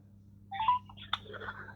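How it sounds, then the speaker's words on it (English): A short burst of telephone dialing tones, a few quick beeps close together, followed by a click and faint line noise. "Ringing up Graeme Kenna."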